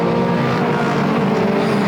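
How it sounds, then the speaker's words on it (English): A pack of pure stock race cars coming off a turn at Flamboro Speedway, a loud dense engine roar holding steady as the cars pass close together, with no voices. "As that big pack of cars comes up off of turn number 2, they're side by side."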